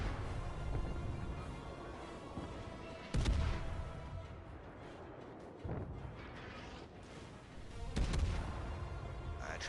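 Heavy naval gunfire from the Leningrad destroyer leader in World of Warships, a few deep booming salvos several seconds apart over continuous engine and sea rumble, with someone talking faintly between shots.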